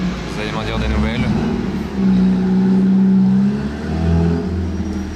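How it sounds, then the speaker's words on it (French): An Alfa Romeo 4C with a non-original exhaust revs and pulls away nearby, its engine note rising and holding in bursts, while someone talks over it. "on a une Alfa Romeo 4C et je crois que l'échappement n'est pas d'origine"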